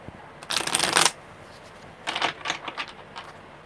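Tarot cards are shuffled by hand in two bursts, a long riffle followed after a pause by several shorter crisp flutters, close and clear with no talking.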